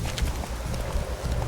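A horse gallops in The Witcher 3 video game, producing a brief, fairly quiet run of rhythmic clip-clop hoofbeats.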